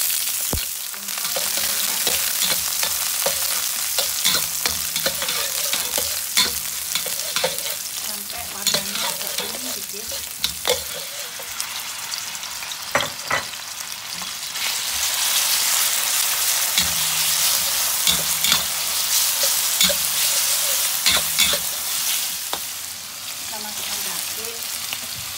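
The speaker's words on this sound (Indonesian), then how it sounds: "Nyalakan kompornya dengan minyak. Dan ini masukkan bawang putih yang sudah tadi dengan jahe." Garlic and ginger sizzle steadily in hot oil on a stove, a continuous bright frying hiss broken by frequent stirring scrapes and clatters of a utensil against the pan, with no talking.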